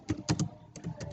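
A handful of quick keystrokes on a computer keyboard click in two short bursts, faint and close, while text is entered for a school poster design.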